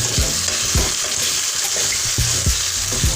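Rice fries loudly and close by in a pot, giving a continuous crackling sizzle. A spoon stirs it in regular scraping strokes about every half second.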